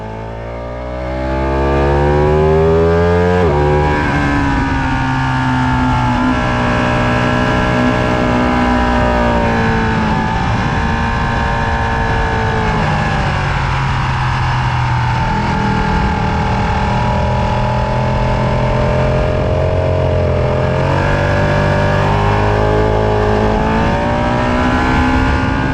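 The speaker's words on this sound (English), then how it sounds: "finally some clear track and a full-throated engine" Race car engine roaring at full throttle around Palmer Motorsports Park, loud and close, revs climbing and dropping through gear changes with sustained harmonic whine for nearly half a minute.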